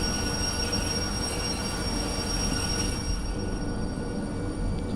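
A long freight train of steel rails in the Derail Valley simulator rolls with a steady heavy rumble and a thin, sustained high-pitched squeal of wheels braking on the track, continuous throughout.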